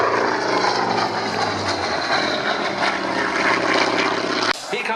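Ex-Swiss Air Force Hawker Hunter F-58A jet at an air show, its engine a loud, steady broadband roar that holds for several seconds before cutting away abruptly near the end.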